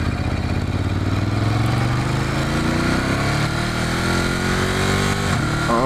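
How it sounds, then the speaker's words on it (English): Ducati motorcycle engine droning steadily and loud throughout, pitch sliding upward as it passes close by, with a brief rev near the end. "Oh yeah, that's the Ducati"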